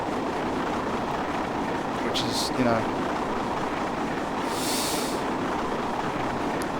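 A passenger train running on the London to York line in Train Simulator 2017, a steady loud rumble of wheels and engine throughout with a brief squeal near the middle and a short hiss later, under occasional speech.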